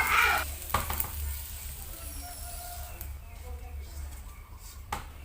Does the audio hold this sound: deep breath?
no